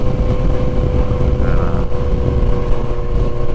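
Steady crosswind buffeting on a motorcycle fitted with a double-bubble windscreen, a loud continuous roar of wind against the microphone over low engine drone, with no talking.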